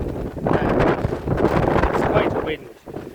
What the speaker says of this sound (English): It's quite a wind.